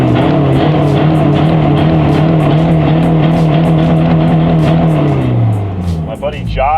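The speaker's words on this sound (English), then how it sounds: "I had to give you guys a few revs." Loud diesel truck engine set up for coal rolling, idling heavily at a stoplight and revving steadily with a deep rumble, then dropping off near the end as a voice starts talking.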